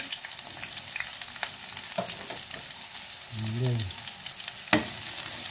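Onion and garlic frying in very hot oil, a continuous crackling sizzle with sharp pops and stirring, close up, while a voice speaks briefly partway through.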